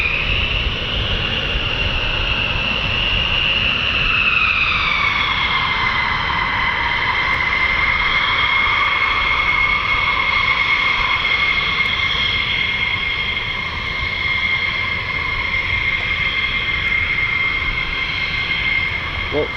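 A USAF F-15E Strike Eagle of the 48th Fighter Wing at RAF Lakenheath roars loud and steady with a sustained jet engine whine, its pitch sliding down slightly early on as it passes, then holding a continuous rumbling drone throughout.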